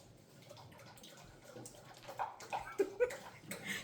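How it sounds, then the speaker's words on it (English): A dog laps water from a bowl indoors, a quiet run of wet slurping and splashing that grows more distinct and rhythmic toward the end, faint and nearby. "my dog's drinking water"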